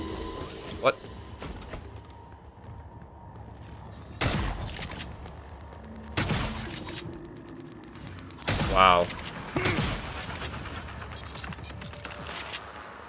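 Three shotgun blasts in the game Prey, fired at a small mimic alien, come as sharp broadband bursts spaced a couple of seconds apart. Quieter in-game clatter and movement sounds fill the gaps between shots.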